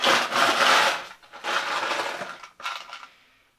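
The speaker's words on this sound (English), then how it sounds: "I'm going to fill this thing full of ice." Ice cubes being loaded into a simple glass for a rum cocktail: loud, close rattling and clinking crashes in three bursts, the last one shorter, with the clatter tapering off at the end.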